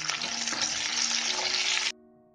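Onions sauté in a hot pan for a matar mushroom dish, a loud steady sizzle that cuts off abruptly near the end, leaving near silence.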